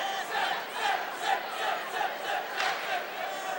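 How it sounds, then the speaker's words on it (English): Crowd chanting at a Hill-Murray vs Stillwater high school hockey section semifinal: a rhythmic, repeated chant rises and falls in even pulses from a large group, somewhat distant and echoing in the arena. "I did not just hear the crowd chanting Civ, did I?"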